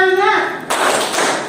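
A classroom group chants a rhythmic clap routine: a short sung voice gives way to a dense, close burst of many hands clapping together for the rest of the moment.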